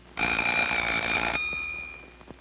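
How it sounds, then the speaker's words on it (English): An electric bell wired through two closed switches in a simple logic circuit rings with a continuous loud metallic clatter for about a second, then stops abruptly and leaves a fading ring. "closing this switch and this one to ring the bell"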